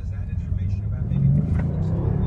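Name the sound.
Mercedes-Benz S63 2014 V8 biturbo engine revving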